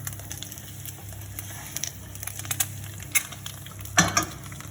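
Fried eggs sizzling in a frying pan as they are gently flipped, with a soft steady hiss broken by light clicks and a sharper clatter near the end, close and fairly quiet, no talk.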